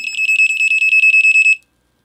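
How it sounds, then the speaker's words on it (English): A rechargeable smart dog bark collar (FAFAFROG) sounds a loud, close run of about a dozen rapid high-pitched electronic beeps in an even rhythm, then cuts off into silence. "So it gave a loud beep and a vibrate and an electrode."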